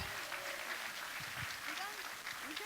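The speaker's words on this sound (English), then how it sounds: "give Nikki a round of applause" A seminar audience gives a round of applause for a participant, a soft, continuous patter of many hands clapping, with a voice talking over it.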